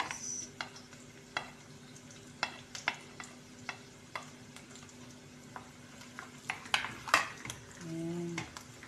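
Garlic going into a pan of chicken liver, giving a low steady sizzle broken by repeated sharp clicks and scrapes of a utensil stirring against the pan, with a brief tonal clatter near the end.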